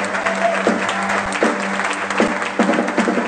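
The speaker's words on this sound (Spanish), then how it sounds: "Fuerte ese aplauso para Verónica Fuchs." Audience applause fills a political campaign launch event for a local party list, steady dense clapping from a crowd heard close and loud throughout, with faint background voices and a brief tone.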